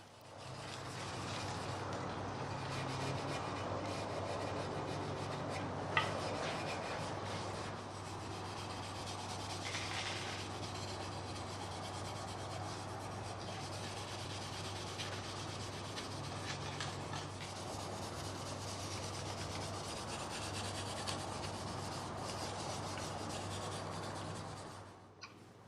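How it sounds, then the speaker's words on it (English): Fine steel wool rubbing down a wooden electric guitar body between coats of tung oil, a steady continuous scrubbing hiss that holds for about 25 seconds over a low background hum. "I'll rub down the surface of the wood with some fine steel wool to give it just enough tooth for the oil to soak"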